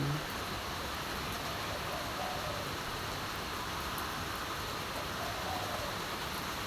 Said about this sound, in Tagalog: Lakas ng ulan sa aming bayan.